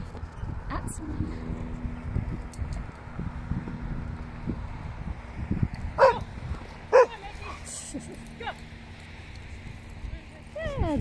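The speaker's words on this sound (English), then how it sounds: "That's the first time I've heard Revy bark at someone" A dog barks twice in a park, two sharp, loud bursts about a second apart, over wind buffeting the microphone and rustling footsteps, with people talking around it.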